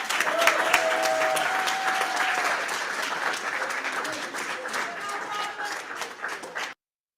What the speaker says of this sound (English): Lots of claps on that one, Robert.